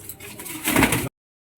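A Lotan pigeon gives a short, soft coo up close, a brief low throaty call lasting under a second before cutting off.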